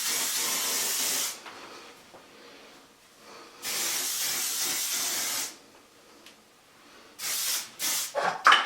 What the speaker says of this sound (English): hairspray gets all the way in there.